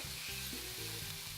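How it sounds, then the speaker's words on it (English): Garlic stirred and frying in a hot pan, a dense, steady sizzle close up with faint scraping as it's moved, no voices. "Give that a little stir with the garlic."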